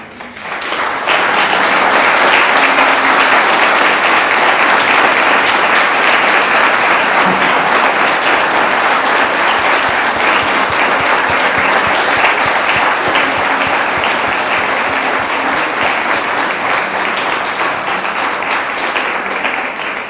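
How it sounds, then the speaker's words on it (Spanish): Sustained, dense applause from an audience after a local-history lecture, loud and steady for about twenty seconds with many hands clapping close together. "Quiero que el aplauso sea para él."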